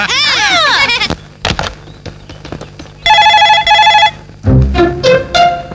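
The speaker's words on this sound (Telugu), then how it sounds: "రింగ్ అవుతుందిరా." A phone rings with bright electronic tones in two sustained bursts, after a few scattered knocks and warbling sounds.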